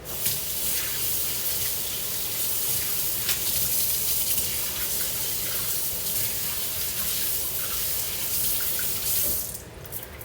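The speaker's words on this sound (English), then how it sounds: "wash my hands in some cold water" Cold tap water runs steadily into a kitchen sink while hands are washed under the stream, a constant close splashing rush that holds for the full length before easing off at the very end.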